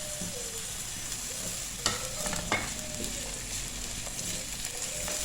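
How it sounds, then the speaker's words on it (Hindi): Chopped onion, garlic and a green chili frying in a pan, a steady sizzle with a few sharp spoon scrapes and knocks against the pan, close and fairly loud, with no talking. "और इनको थोड़ा सा फ्राई करेंगे कि प्याज का जो कलर है वो भी चेंज हो जाए"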